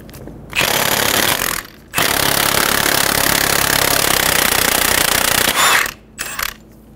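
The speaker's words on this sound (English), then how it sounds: "remove the axle nut." Power impact tool rattling loose the front axle nut with a 30 mm socket on a 2007-2011 Toyota Camry, loud hammering bursts in two long runs with a short pause, then a brief final burst.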